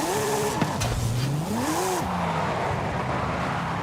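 A Porsche GT2 RS in Forza Horizon 5 revs and drops sharply, its engine swooping through pitch changes as tires squeal briefly, close and loud with no talking.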